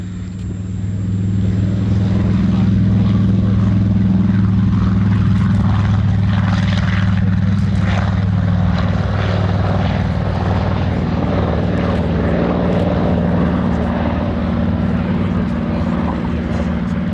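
A Saab B17A, a historic Swedish Air Force propeller aircraft, flies at the Duxford air show with a loud, steady engine drone that holds throughout, while an announcer talks over it.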